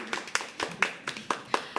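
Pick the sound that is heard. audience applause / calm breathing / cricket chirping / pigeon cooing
audience applause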